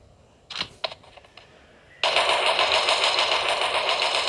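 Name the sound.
auto rifle gunfire in a video game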